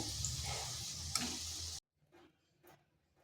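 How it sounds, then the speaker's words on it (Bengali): Khaja pastry dough frying in hot oil as it is stirred, a close, steady sizzle for under two seconds that stops abruptly, followed by near silence with a couple of faint clinks. "এইভাবে নেড়ে চেড়ে ভেজে নিচ্ছি"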